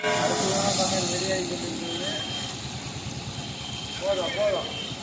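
A pot of dal (lentils) boiling over on a cooking stove in an outdoor communal kitchen, a loud continuous hiss and rumble of heat and bubbling, with faint voices and a brief tonal squeal near the end.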